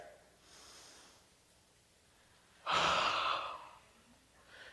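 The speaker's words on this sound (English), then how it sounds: "the first thing that we've got to do is to take a very deep breath" A person takes a deep breath: a faint inhale, then a loud, airy exhale sigh lasting about a second, close to the microphone in a quiet room.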